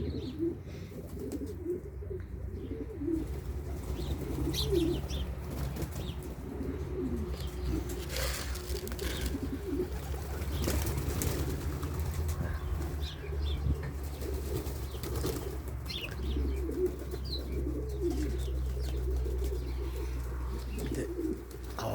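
Boğma pigeons coo repeatedly in low, throaty bursts, with occasional wing flaps, a steady murmuring flock close by for the whole stretch.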